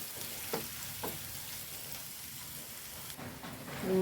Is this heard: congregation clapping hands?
no